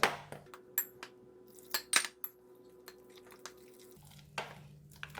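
Curry powder being stirred with a little added water into a thick paste for fish head curry, giving scattered soft clinks and scrapes of a spoon against a bowl, close and fairly quiet with pauses between strokes.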